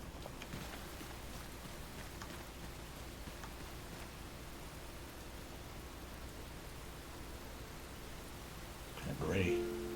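Steady rain falls in Enshrouded, a soft even hiss continuing for the whole stretch, with a brief louder rustle near the end.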